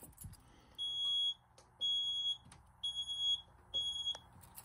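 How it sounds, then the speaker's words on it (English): A Wheelock MT fire alarm horn sounds in four evenly spaced electronic tone blasts, each about half a second long, faint and somewhat distant, with soft clicks between the pulses and no talking. "I can hear the Wheelock MT slightly."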